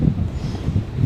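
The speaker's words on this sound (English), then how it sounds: "It's windy." Outdoor wind gusting on a California farm with a cow nearby, a low rumbling buffet against the microphone, steady and close with no other sounds.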